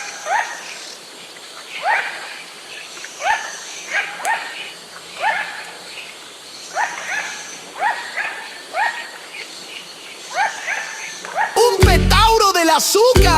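A sugar glider calls in a repeated series of short, high yapping chirps, rhythmic and moderately close, before a brief burst of other sound at the end.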